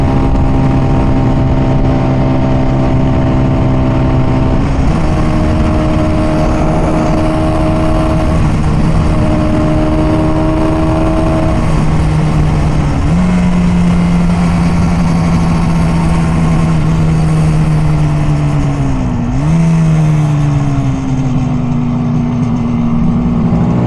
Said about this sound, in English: hate this part of my commute on my old 1985 Honda Rebel 250